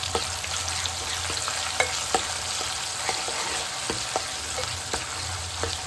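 Chopped tomatoes, onion and garlic fry in a pan with a steady loud sizzle while a spoon stirs and scrapes through them, the light knocks coming every half second or so, close up and with no talking.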